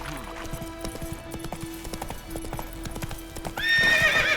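Roach the horse in Witcher 3 trots with steady, moderately close hoofbeats, then lets out a loud whinny at the end.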